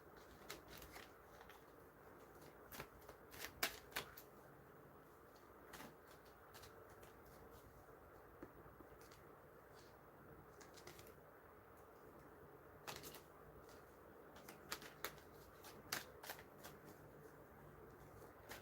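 Soft, quick papery riffles and flicks of tarot cards being shuffled, coming in irregular clusters over a quiet background with no talking.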